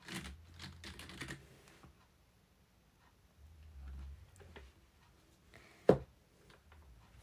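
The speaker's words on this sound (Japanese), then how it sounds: "全然できないけどタイピング。" Typing on a computer keyboard with lighting, heard as scattered clicks and taps interspersed with a brief louder knock, with no talk.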